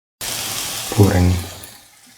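Water poured into a cottage cheese and capsicum stew mixture, a brief splashing, gurgling pour that starts abruptly, swells for about a second and then fades.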